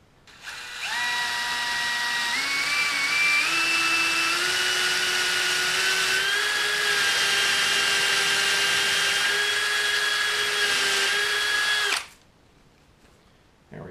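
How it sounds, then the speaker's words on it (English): A power drill bores a hole for a caster wheel post on a skink enclosure build, whining steadily for about eleven seconds with a slowly rising pitch before stopping abruptly. "Hole is drilled."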